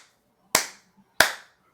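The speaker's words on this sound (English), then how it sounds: "That's the clap from Rudy." Three sharp single claps ring out one at a time in a quiet space, each with a short decaying tail, the first two well spaced and the third cut off at the end, given as the slow clap from Rudy.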